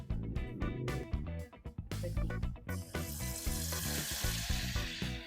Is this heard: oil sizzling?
yes